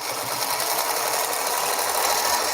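A sewing machine runs steadily and close throughout, a loud continuous whirring with a rapid even mechanical rhythm and no talk.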